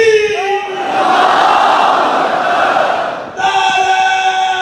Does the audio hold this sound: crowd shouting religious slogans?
yes